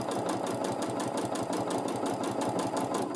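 A domestic sewing machine stitching a quilted line through fabric layers with batting, its rapid, steady mechanical chatter running loud and continuous.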